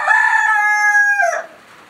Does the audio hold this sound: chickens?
yes